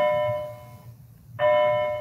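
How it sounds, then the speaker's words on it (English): A doorbell rings indoors with a sustained electronic tone that fades, breaks off briefly, then sounds again at full strength, fairly close and with no talking. "sorry for the bell"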